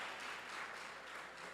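A church congregation applauds in a steady, dense wash of clapping that carries through the whole stretch, with no voices over it.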